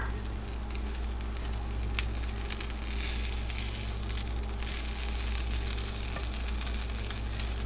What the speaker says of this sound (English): You hear that sizzle on the pancake?